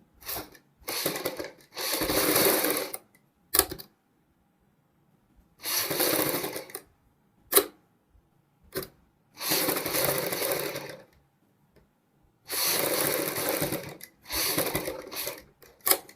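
A sewing machine stitches the small collar at the front neck of a kurti in repeated bursts of steady whirring, each a second or two long, separated by silent pauses.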